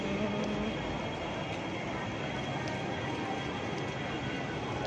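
A train ride in Indonesia heard from inside a carriage: a steady, dense rumble of wheels and car noise, constant and moderately loud throughout, with no clear voices over it.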